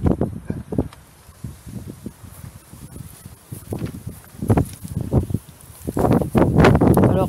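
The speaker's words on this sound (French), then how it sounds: "le vent est vraiment fort" Strong gusty wind sweeps through a garden, its low buffeting rumbles and rustling foliage rising and falling in bursts, growing heavier toward the end.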